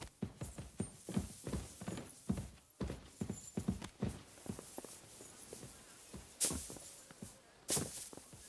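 Horse hooves clip-clopping in the medieval video game Kingdom Come: Deliverance, a steady walking rhythm of distinct hoof strikes that thins out, ending with a couple of louder thuds.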